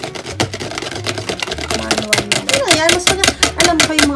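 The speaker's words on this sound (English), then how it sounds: "You're gonna whisk it until your arm fall off." Dalgona coffee whisked by hand in a bowl, fast rhythmic clicking strokes that quicken and grow louder, with talk and background music alongside.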